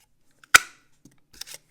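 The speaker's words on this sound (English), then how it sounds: "Then I'm going to punch out a 1 inch circle from basic black." A circle paper punch snaps through basic black cardstock to cut a 1 inch circle, one sharp close click followed by a softer second clack.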